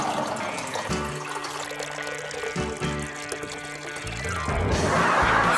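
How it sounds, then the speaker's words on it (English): Liquid is poured into a toy toilet, a steady trickling stream of splashing water that builds louder toward the end, with musical tones underneath. "I can empty my bladder at last."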